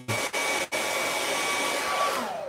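A hair dryer blows on wet paint during a painting session on bushes and shrubs, with a steady, loud whirring hiss that briefly cuts out twice before running on continuously.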